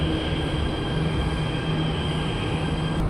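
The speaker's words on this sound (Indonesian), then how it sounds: "Bakal cobain naik MRT Jakarta pertama di tahun 2026" A Jakarta MRT train rumbles steadily in a loud, continuous roar with a faint high whine, heard from inside the car.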